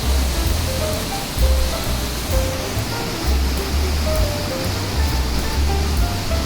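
Perumbankuthu waterfall in Mankulam, where foaming water tumbles from above, gives off a loud, unbroken roar of cascading water that holds steady from start to finish.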